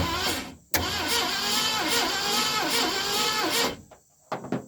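A 1970 Ford Mustang Mach 1 engine cranks slowly and laboriously in a steady rhythmic churn for several seconds, close and loud, then cuts out, followed by a couple of clicks.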